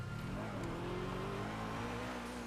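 A car driving in a video game, its engine holding a steady, close droning hum with a slowly rising tone throughout, unbroken and alone.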